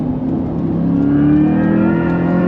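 A 2024 Chevrolet C8 Corvette E-Ray pulls hard on a track, its engine note droning steadily and rising slightly in pitch under acceleration, loud and close with no talk.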